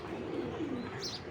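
Low, soft cooing from a silver jira pigeon in a cage, a brief murmur close by with a faint chirp near the end.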